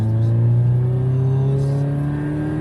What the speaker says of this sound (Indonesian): Ya, coba kita geber lagi.